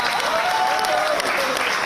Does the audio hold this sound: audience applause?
yes